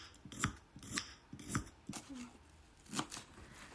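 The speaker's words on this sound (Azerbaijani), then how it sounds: "Yer kökünü də bu formada doğrayıram." Carrots being chopped with a knife on a board, several crisp irregular cuts spaced through the clip, close and fairly quiet, with no talking.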